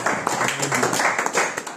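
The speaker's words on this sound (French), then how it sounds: "Là, tu peux applaudir aussi pour ta vie." A church congregation at a Sunday service claps in a brief, busy burst of many hands, close and fairly loud.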